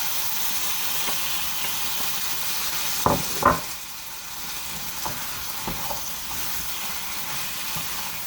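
Onions and piquillo peppers sizzle in a frying pan with a steady hiss, broken by a few sharp clicks and knocks from the pan or a utensil, and no voices.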